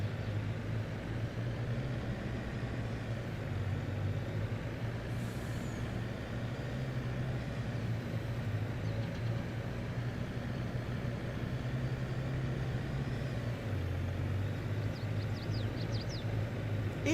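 A Subaru Boxer four-cylinder engine in Farming Simulator 22 drones steadily at a constant pitch, a low, even hum held close for the whole stretch, with faint clicks and ticks on top.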